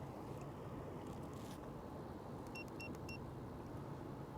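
A boat motor drones low and steady on a river at Nickajack Dam, a faint continuous rumble with a few small clicks over it.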